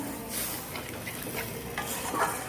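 Bengali puti fish curry (jhal) in a pan sizzles steadily as a little water is poured in, a dense close hiss with faint scraping of stirring and no talk.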